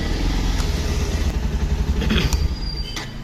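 A motorcycle runs close by after being switched on, giving a steady, throaty engine rumble with light mechanical clatter throughout.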